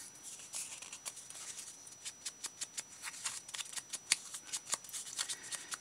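Scissors cut through paper backing while gift tags are made: a steady series of crisp, close snips, quiet and regular, with no talking.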